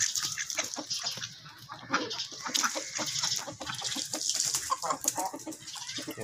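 Hens cluck and call repeatedly at close range while being fed alongside ducks, a busy overlapping flock chatter with sharp bursts, without talk.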